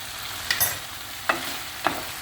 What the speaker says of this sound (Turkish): Bu aşamada domateslerimi ilave ediyoruz ve domateslerin eriyene kadar kavrulacak.